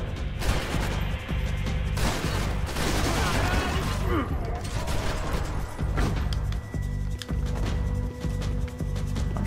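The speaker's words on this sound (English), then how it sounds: "Still getting shot from somewhere, I know that." Max Payne 3 firefight with the player under fire, a continuous loud clatter of gunshots and impacts over a steady low hum, shots rattling rapidly throughout.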